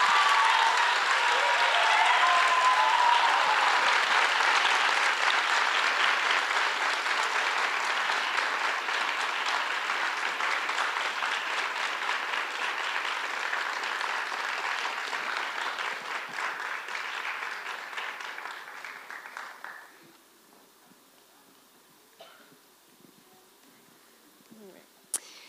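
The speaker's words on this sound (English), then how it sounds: "And now one big applause." An audience at a youth ballet awards ceremony applauds in a dense, sustained clatter that slowly thins, then stops abruptly near the end, leaving faint room noise and a few stray claps.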